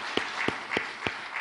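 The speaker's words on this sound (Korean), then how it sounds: "우리 선생님들에게 박수 한번 하겠습니다." A church congregation applauds teachers at a scholarship dedication service, a brief, full burst of clapping from many hands with a few steady accented beats.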